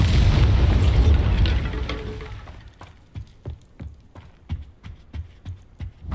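A loud, sustained blast rumbles for roughly two seconds as the Bombarda explosion spell detonates in Hogwarts Legacy, then fades into a run of sharp, evenly spaced footstep-like thuds.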